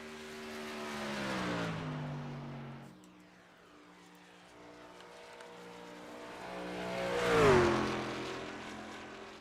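Race trucks at full speed on Darlington Raceway in iRacing, engines droning loudly with pitch sweeping as cars pass, one fading early then another roaring close by near the end.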